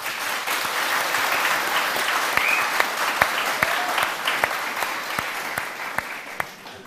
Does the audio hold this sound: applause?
yes